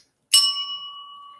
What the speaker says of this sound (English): I'm signing off, hitting the bell.